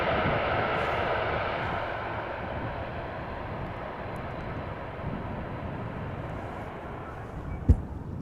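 An airliner landing at Amsterdam Schiphol, thrust reversers at idle, makes a steady, fairly distant broadband roar that slowly eases over several seconds, with a brief thump near the end.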